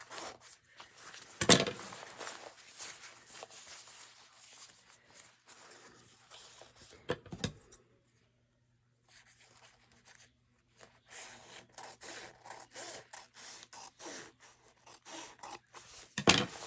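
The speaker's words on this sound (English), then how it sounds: "I'm going to cut right under the waistband. And then I will cut down." Scissors snipping through Adidas pants fabric just under the waistband, close and quiet, a run of crisp cutting strokes with a sharp snip near the start and another near the end, then a pause before more cutting.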